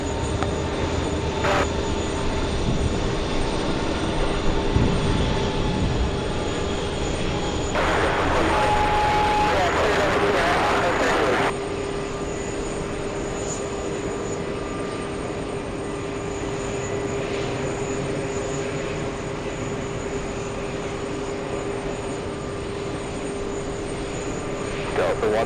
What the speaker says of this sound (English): we have a 777 arrival. EVA Air Cargo 634 flying in from Anchorage